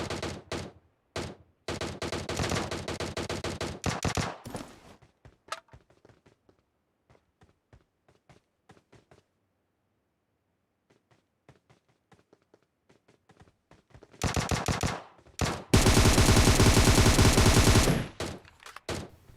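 Gunfire in the mobile battle royale game BGMI: loud bursts of rapid automatic fire, then a stretch of scattered single shots and near silence, before heavy sustained machine-gun fire returns at the end.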